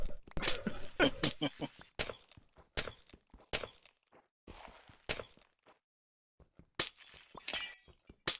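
Glass blocks breaking in the video game Minecraft, a string of sharp, bright shattering hits in quick bursts separated by short silences, loud and close with no talking over them.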